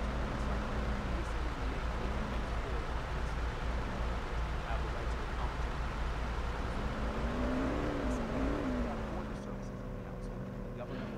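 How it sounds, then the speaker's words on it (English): A car engine in the Police Simulator video game runs with a loud, constant low drone and rumble throughout, nearby, with some wavering pitch under faint background noise. "when they put cars right next to you that the motor's running super loud"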